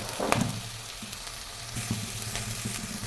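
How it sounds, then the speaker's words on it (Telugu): Garlic, green chillies and onions frying in a pan for gobi manchurian, a close, loud, continuous sizzle and crackle with occasional stirring scrapes. "పచ్చిమిర్చి ముక్కలు, ఉల్లిపాయలు ముక్కలు వేసి బాగా వేగనివ్వాలి"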